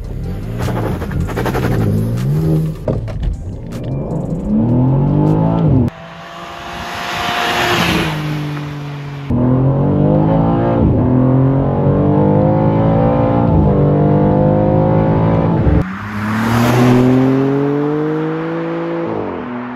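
A BMW M2 in M2 mode accelerates hard, its engine note loud and close and climbing steadily in pitch, with sharp gear changes that briefly drop the revs before each rise begins again.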